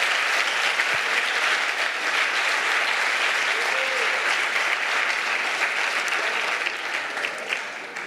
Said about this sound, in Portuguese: Você pode aplaudir a Jesus aqui nessa noite?